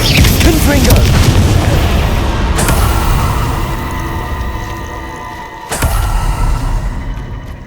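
A Confringo blasting spell explodes in Hogwarts Legacy, a deep rolling boom that fills the scene, decays slowly, then a second sharp burst and rumble strike near the end.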